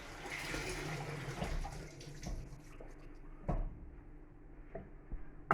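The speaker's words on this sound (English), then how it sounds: "put in some cold water" Cold water poured into cordial in a glass, a gurgling splashing stream that fades toward the end, with a few small clinks near the close.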